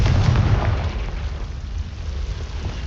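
A Confringo fire spell blasts in the Hogwarts Legacy video game, a loud booming explosion with a heavy low rumble that peaks at the start and slowly decays into a sustained roar.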